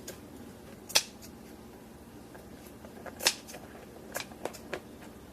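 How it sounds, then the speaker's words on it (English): Snips cut through wires inside a phone that has been baked in an oven, two sharp clicks spaced a few seconds apart and then a quick cluster of smaller snaps over a quiet background. "Try and cut open all these wires."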